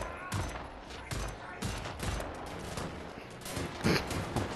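Rapid gunfire in the first-person shooter Wolfenstein: The New Order, repeated loud bursts of shots fired in quick succession with no pauses between volleys.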